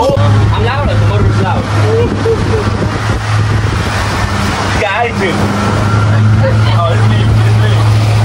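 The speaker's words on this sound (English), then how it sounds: "The motor is loud." A boat motor runs loudly and continuously on open water near Cabo, Mexico, with a steady drone and wind buffeting the microphone while people talk over it.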